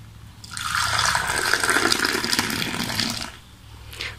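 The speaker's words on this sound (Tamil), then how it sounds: "இப்போ நம்ம குடிக்கிற கப்புக்கு ட்ரான்ஸ்ஃபர் பண்ணிடலாம்" Hot milk tea pours into a drinking cup in a home kitchen, giving one continuous close splashing stream that lasts a few seconds, tapers off, then ends with a brief final trickle.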